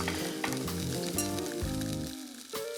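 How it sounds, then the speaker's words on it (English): Kingfish sizzles in a frying pan, a dense, continuous crackle and hiss of hot oil close up, with no voices. "You can hear it sizzling away in the pan."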